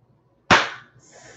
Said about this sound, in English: Fireworks, okay.